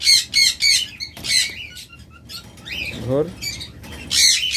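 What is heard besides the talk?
lovebirds and cockatiels squawking and chirping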